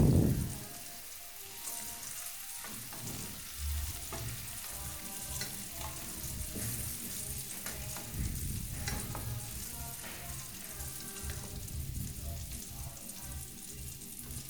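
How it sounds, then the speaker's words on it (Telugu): Curry leaves fry in hot oil, a steady crackling sizzle with bursts of spattering and stirring, close and fairly quiet throughout. "కరివేపాకు కూడా తీసుకొని ఆయిల్లోని ఫ్రై చేసుకుందాం"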